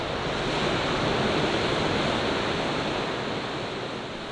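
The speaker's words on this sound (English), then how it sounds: "This 80-foot waterfall is the culmination of three rivers" An 80-foot waterfall at Pfeiffer Big Sur State Park, where three rivers meet, gives a steady, loud rush of falling water that continues unbroken and stays even throughout.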